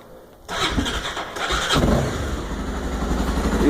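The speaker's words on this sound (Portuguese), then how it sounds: "Faz bem menos barulho que o no original da Honda, da XRE." A Honda XRE 300 motorcycle fitted with a Roncar two-way exhaust starts up after a moment of near silence and settles into a close, steady idle with a slight swell in engine noise.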